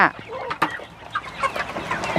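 Native Thai backyard chickens cluck in a short run of soft, irregular calls, close by, with farmyard noise in the background.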